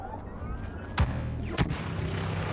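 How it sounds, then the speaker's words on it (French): Thermal detonator going off in the Star Wars Battlefront video game, two sharp booming bursts about half a second apart, moderately loud over a steady low battlefield rumble. "Tire-là, là, ta bombe thermique."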